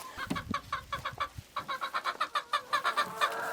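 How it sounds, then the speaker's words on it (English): Chickens cluck in a rapid, steady series of short calls, fairly close and loud, with a few louder squawks mixed in. "Chickens are very curious animals"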